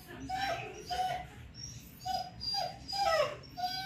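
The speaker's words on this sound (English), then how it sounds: "there's a dog out there whining and you gotta go rescue him" A dog outside a vet clinic whines and whimpers in repeated high-pitched cries, roughly half a dozen rising yelps spaced about half a second apart, fairly close and clear.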